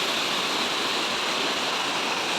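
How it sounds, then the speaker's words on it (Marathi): A forest stream flows nearby, a loud, even rush of water that holds steady from start to finish with no talking. "मस्त वाहतं पाणी आहे"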